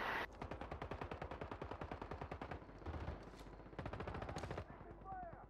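Rapid automatic gunfire rattles steadily through a Modern Warfare 3 multiplayer match, long sustained bursts with brief pauses, loud and close, with some talk mixed in.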